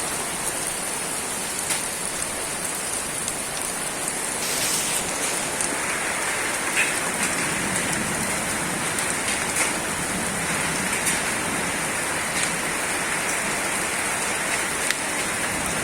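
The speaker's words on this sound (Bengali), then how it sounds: "বাহিরে প্রচণ্ড বৃষ্টি" Heavy rain pours outside a house during a Baishakh storm, a dense, steady hiss of drops striking surfaces that stays loud and unbroken throughout.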